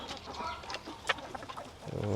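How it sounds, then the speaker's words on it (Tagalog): A small rooster on a farm in San Diego gives a few short, close clucks, with faint background noise and no speech. "Ang cute po ng tandang na yan."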